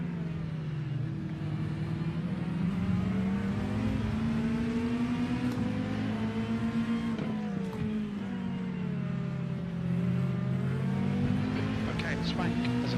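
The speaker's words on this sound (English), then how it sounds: "Okay, Swank, there's a faster car bearing down on you." Race car engines lapping Road America in the iRacing game whine steadily with shifting pitch, a nearby car howling as it closes in, under occasional radio chatter.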